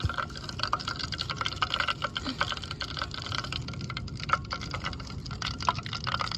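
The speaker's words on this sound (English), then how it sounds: "the wax is melted, so it is time to pour it" Molten wax pouring in a steady, continuous stream, with soft irregular splashes and drips, close by, with no voices.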